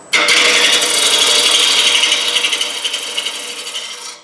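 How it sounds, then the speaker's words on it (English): Bowl gouge peeling green wood off a turning bowl blank on a lathe, cutting with the bottom wing in small bites; a continuous close, loud scraping rasp that turns into rhythmic pulses before it stops abruptly. "I'm going to use the bottom wing of the gouge with the fluke facing the wood. And just peel it away in bites."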